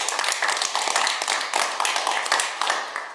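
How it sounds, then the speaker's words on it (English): Attendees at an Oregon Agricultural Heritage Commission meeting clap in a brief, sparse round of applause, a handful of hands tapping unevenly at close range with no voices over it. "I think we can give Woody a round of applause too."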